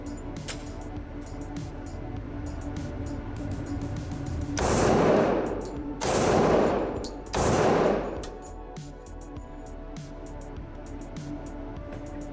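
Three loud gunshots from a Glock pistol at an outdoor shooting range, fired roughly a second apart, each with a sharp crack and ringing decay over faint background noise.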